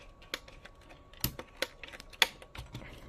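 Small plastic toe joints on a 1:18 scale JoyToy Warhammer 40K Ultramarines Redemptor Dreadnought action figure click and creak under its weight, a quiet irregular series of sharp ticks over a faint background hum.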